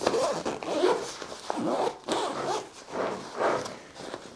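Plastic zippers on a black SUISSEWIN travel laptop backpack are pulled in repeated rasping strokes, close and clear, with about five or six zips in a row and no voices.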